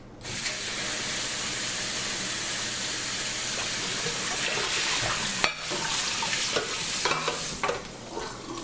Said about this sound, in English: If you put water into it, it starts, see how it's sizzling?